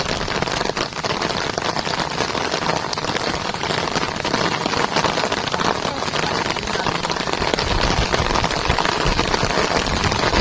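Torrential rain pours down heavily outdoors at a fishing spot, a dense, unbroken roar of drops hammering surfaces at steady loudness from start to finish, with no voices.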